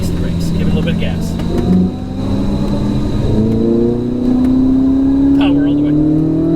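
A Chevrolet C8 Z06 sports car accelerating on a racetrack, its engine note rising steadily in pitch and loudness over several seconds with a brief dip, heard from inside the car.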